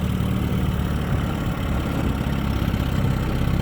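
A 1958 Mercury Mark 28 22hp outboard motor idles at a steady, even low rumble that holds at the same level throughout, with no talk over it.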